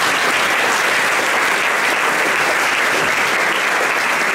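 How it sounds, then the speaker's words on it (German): An audience at a Trachtenmusikkapelle Bodensdorf brass band summer concert claps in loud, dense, sustained applause that fills the room evenly throughout, with no single voice standing out. "Einen Applaus für die Lea."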